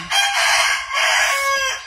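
A rooster crows once, loud and close, with a drawn-out two-part call and no talk over it.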